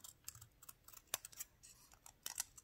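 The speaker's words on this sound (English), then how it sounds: "You might have to cut like these two petals off." Scissors snip through paper flower petals in a quiet room, producing a string of faint, crisp clicks and cuts at an uneven pace.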